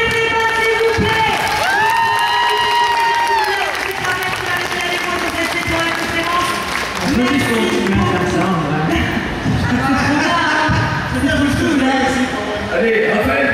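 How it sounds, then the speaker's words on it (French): A live audience applauds and cheers loudly and continuously, with voices shouting and whooping through the crowd noise. "On peut applaudir."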